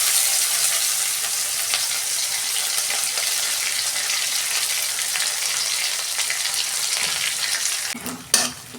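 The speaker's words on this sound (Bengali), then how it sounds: "পেঁয়াজটা ভাজা হয়ে গেছে" Sliced onion frying in a pan with cardamom, cinnamon, cloves and cumin seeds, a loud continuous sizzle filling the whole stretch before a brief clatter near the end.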